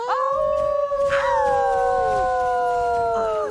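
A drawn-out wolf howl from the Mobile Legends video game, heard during an MPL Season 7 esports match. The clear, steady tones hold and slowly glide for several seconds, loud and alone with no talking.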